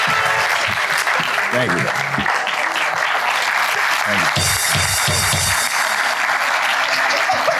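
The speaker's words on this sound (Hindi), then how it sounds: "तालियां यार, ये वही बात है इज्जत और प्यार वाली।" Studio audience on a Pakistani comedy talk show applauding steadily and loudly throughout, a dense continuous clapping wash with a host briefly speaking over it.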